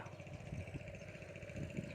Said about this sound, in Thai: นั่นก็จะเป็นเรือหางยาวของชาวประมงพื้นบ้านครับ